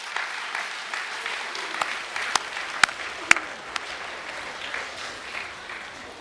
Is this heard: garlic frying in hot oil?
no